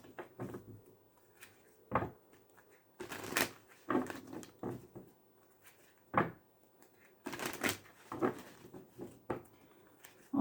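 Tarot cards are shuffled in bursts of soft riffling and slapping, with pauses between, close and quiet with light handling noises.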